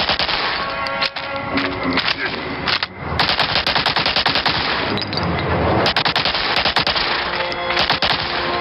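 Rapid machine-gun and rifle fire from Medal of Honor: Allied Assault, aimed at spotlights, rattles in dense, loud bursts almost without a break, with short gaps between volleys.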